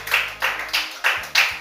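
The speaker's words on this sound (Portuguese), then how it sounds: "Bate as palmas para o Senhor Jesus." Church congregation clapping in a worship service, five or so distinct, evenly spaced claps in a steady rhythm, fairly close and clear, with no talking over them.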